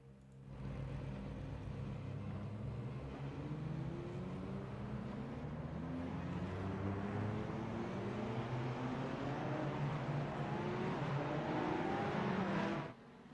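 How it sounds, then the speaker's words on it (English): Ferrari 488 GT3 EVO race car rolling out onto Road America in a racing simulation, a steady engine drone with slowly rising harmonic tones as it gains speed, continuous and close, with no talking. "we're ready to start rolling here to do our extra long out lap"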